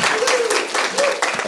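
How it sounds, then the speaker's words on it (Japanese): A crowd claps and cheers in a dense, continuous wash of noise, with a voice calling out over it, at the DevOpsDays Tokyo 2024 keynote. "よくわかんない歓声が上がってますけど"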